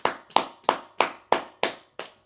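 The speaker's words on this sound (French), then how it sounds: "Applaudissons le Seigneur." Seven sharp, evenly spaced hand claps ring out close and alone at a steady slow beat during a children's prayer gathering, each clap fading quickly before the next.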